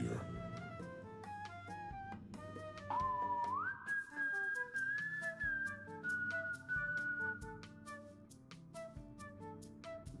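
A melodic whistled tune rises and holds a long high note over soft music with steady low tones, moderately loud throughout.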